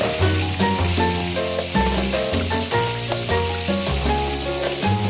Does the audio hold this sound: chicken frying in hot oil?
yes